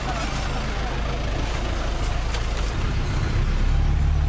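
A bus engine idles and rumbles steadily in Bali, a dense low drone filling the space, with indistinct voices of passengers talking nearby underneath.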